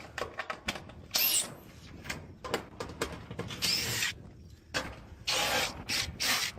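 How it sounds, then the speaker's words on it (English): A drill backs screws out of a roof during shingle replacement at a valley, with short bursts of whirring separated by pauses and scraping handling noises, fairly close. "So, start taking out screws."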